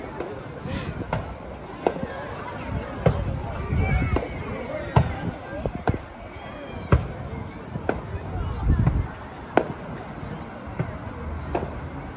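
Distant fireworks at Hotto Motto Field baseball stadium pop and thud in scattered bursts while people chatter quietly nearby in Japanese.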